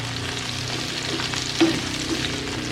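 Bitter gourd with egg and tomato fries in a pan with a steady, close sizzle and a soft scrape or stir partway through, no voices.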